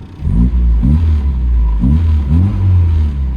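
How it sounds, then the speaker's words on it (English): A 1992 Mini British Open Classic with a 1275cc engine revs up in a few quick bursts over a steady low idle, loud and close, with no talking. "Give it a little rev."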